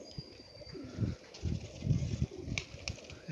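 Racing pigeons out around an open loft, cooing softly in low, repeated murmurs with faint chirps and light rustling, fairly close and with no talk.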